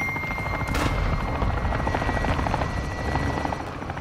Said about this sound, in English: So is that a helicopter?